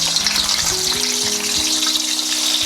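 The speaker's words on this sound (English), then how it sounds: "Okay, I'm just going to start frying my fish now." Tilapia fish deep frying in hot oil gives a loud, steady, dense crackling sizzle throughout, close up and continuous with no talking.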